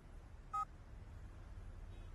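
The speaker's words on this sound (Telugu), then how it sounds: "ఏంటి ఇన్ని మెసేజ్లు వస్తున్నాయి?" A single short electronic tone chimes from a mobile phone with a new SIM card, a brief bright beep over quiet room hiss, followed by near silence.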